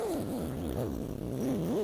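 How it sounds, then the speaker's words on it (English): An anti-snag zipper is drawn along a hammock underquilt, giving a faint, close, wavering rasp that rises and falls in short sweeps. "grab that nice anti-snag zipper"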